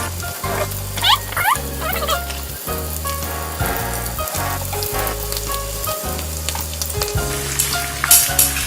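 Risoles frying in hot oil in a pan while being turned, a steady close sizzle and crackle with regular soft knocks and scrapes as the pieces are flipped, no voices.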